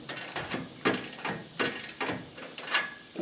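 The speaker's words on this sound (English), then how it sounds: "And you need 3/4 socket and a wrench." A socket wrench on a 3/4 socket ratchets a nut while installing a retractable tie-down strap on a trailer, producing a series of rhythmic, close clicking strokes at moderate volume.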